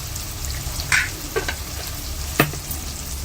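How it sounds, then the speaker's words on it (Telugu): Chicken being stirred with turmeric and chili powder in a pan for a drumstick chicken curry, a steady sizzle under a few sharp scraping strokes and clinks of a spoon against the metal. "ఇదంతా కలిసేలా కలిపేసుకుందాం."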